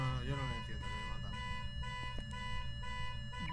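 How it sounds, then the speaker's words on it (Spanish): A car alarm in the Phasmophobia video game blares a steady tonal wail with sustained harmonic pitch, loud and continuous throughout, with brief speech-like sounds mixed in. "se ha soltado la alarma del coche"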